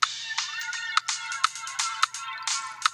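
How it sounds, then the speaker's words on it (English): A music mix played back through a simulated phone speaker, sounding thin and band-limited with no low end, its beat pulsing in steady regular hits at moderate level without any voice. "So if my mix is going to work passably here, phone speaker sound."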